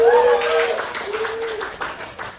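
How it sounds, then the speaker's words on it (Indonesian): Elementary schoolchildren in a third-grade classroom clap briefly and lightly for a classmate, a few scattered claps following a voice at the start. "Tepuk tangan dong untuk kamu"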